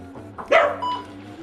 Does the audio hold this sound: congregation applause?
no